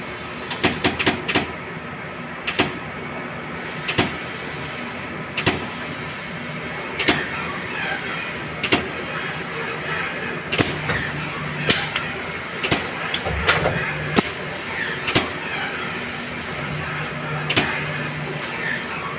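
Mechanical whirring and a steady run of sharp clicks and clacks as a digital textile sublimation printer's head carriage moves back and forth through an auto-clean cycle.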